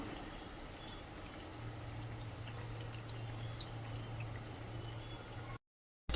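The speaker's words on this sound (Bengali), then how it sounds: "ধীরে সুস্থে একটু ভাজতে হবে মিষ্টিগুলো, যাতে ভালোভাবে ভেতর অবধি ভাজা হয়" Faint, steady bubbling of oil as sweets deep-fry, with small scattered pops and crackles, under a low background hum, ending in a brief silence.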